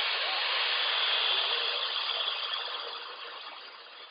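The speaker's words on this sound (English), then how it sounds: "So I'm going to go ahead and heat set this right now." A heat gun blows hot air to set embossing powder on a watercolor paper card, a steady, fairly loud whooshing roar that holds even and fades slightly toward the end, with no talking.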